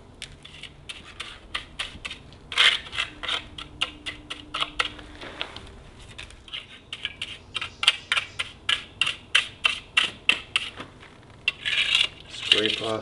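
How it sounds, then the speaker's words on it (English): Repeated short scraping strokes as excess epoxy stone coating is scraped off a surface, a steady series of close, crisp scrapes with brief gaps between them. "Scrape off the extra here."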